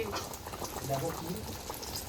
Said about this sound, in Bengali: বেগুন ভাজছে দেখো তেল নেই কড়াইতে